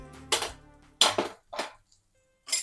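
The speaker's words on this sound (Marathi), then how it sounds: "आता आपण झाकण काढून घेऊ" A metal lid comes off a pan during thalipeeth cooking, giving a few sharp clanks and clinks in a quiet kitchen, spaced by short pauses, with a final clatter at the end.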